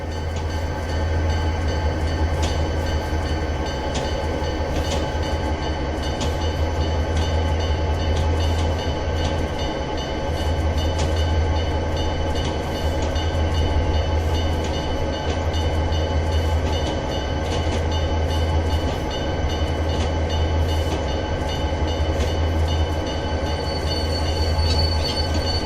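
Southern Pacific 4272 SD40 locomotive running in Train Simulator 2021, a steady loud rolling rumble with rhythmic clicking of wheels over rail joints and a constant tonal hum throughout, no voices.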